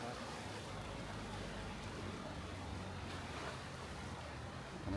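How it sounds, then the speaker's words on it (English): Ocean surf rolls onto the beach at Playa de San Juan in a steady, continuous wash, mixed with wind buffeting the microphone and no talk. "So you're going to listen to a little bit of waves here"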